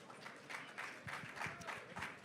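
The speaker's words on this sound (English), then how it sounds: "Let's give Tim a big round of applause" Audience applause at a conference interview session, a steady spread of clapping at moderate, fairly distant level, rising and falling slightly over its short length with no voices on top.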